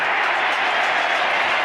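Argentine rugby supporters roar and cheer in a stadium during an England versus Argentina match, a dense, steady crowd wash with no breaks over a brief moment.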